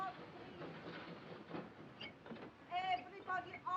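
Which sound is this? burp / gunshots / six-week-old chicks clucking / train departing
train departing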